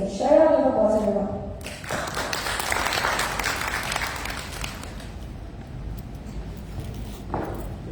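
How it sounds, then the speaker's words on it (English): An audience at a personal care technology summit in Jakarta breaks into applause welcoming a speaker, a steady wash of clapping that follows a voice at the start and fades slowly over several seconds. "Everyone, let's give a warm welcome to Dr. Musli. Share out of applause, everyone"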